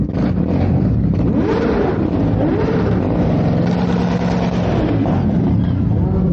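A noisy motorbike engine rumbles loudly and continuously nearby in Southport, its pitch rising and falling as it revs, with a voice partly audible over it.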